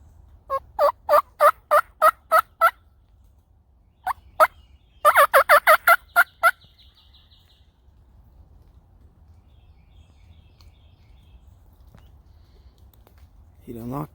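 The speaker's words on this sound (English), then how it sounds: "hit the call one time and he gobbled" A wild turkey gobbler in spring in Virginia gobbles in bursts of rapid rattling calls, fairly close and loud, followed by quieter stretches of open-air background.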